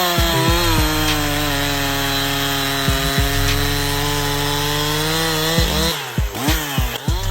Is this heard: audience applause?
no